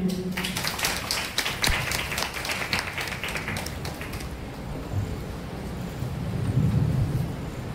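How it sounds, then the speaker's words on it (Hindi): An audience at a stage event on International Peace Day claps for a speaker, dense and loud applause filling the room before tapering off into scattered noise. "जनाब दयाल सिंह साहब जरा जोरदार ताली बजाइए।"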